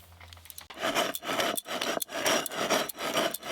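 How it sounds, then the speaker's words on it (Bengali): Sugar being ground into powder for a chilled sherbet: about eight rhythmic, loud rasping strokes in quick succession, each a coarse grinding scrape with brief gaps between. "আমি চিনিটা গুঁড়ো করে নিই"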